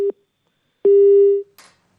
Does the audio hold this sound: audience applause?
no